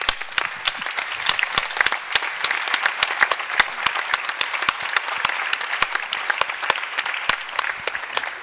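A conference audience at a European museum gathering applauds in a continuous, even spell of clapping, individual claps crisp and close among the wider wash, with no speech over it.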